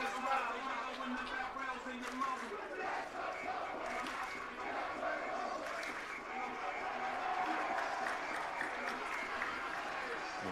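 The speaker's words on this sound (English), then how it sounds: "you might hear the crowd noise through the microphone" Steady, dense crowd roar fills a high school varsity football game at Bobby Ross Stadium, St. Christopher's at Benedictine, with swelling cheers and shouts throughout and no pause, the noise near and continuous.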